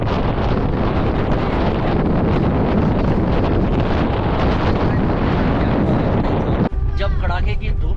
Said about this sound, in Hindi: कितनी तेज हवा है